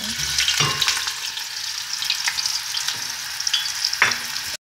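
Fries dropped into hot vegetable oil in a pot give a loud, dense sizzle that holds steady, with a few sharp utensil taps and stirring knocks rising above it.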